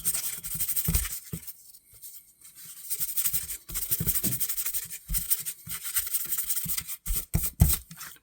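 A knife blade is rubbed with 2000 grit sandpaper during a vintage Utica pocketknife restoration, giving soft close scratchy strokes in irregular bursts with short pauses between them.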